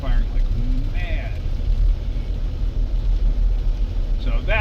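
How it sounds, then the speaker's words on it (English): A Jeep engine runs rough and uneven, misfiring from a bad coil and plug, a steady loud low rumble with faint voices talking over it. "I don't know if you can tell how bad this thing is running. It is just misfiring like mad."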